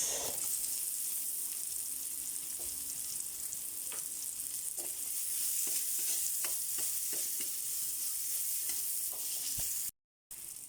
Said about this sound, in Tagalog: Magigisa na po tayo para sa ating pork pickles.